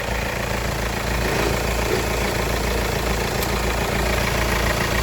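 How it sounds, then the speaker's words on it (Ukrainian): A Kia Sportage 1.7 D4FD diesel engine with about 212,000 km, paired with a six-speed front-wheel-drive setup, idles steadily up close, a loud continuous low rumble with even clatter and no speech. "Мотор працює рівно."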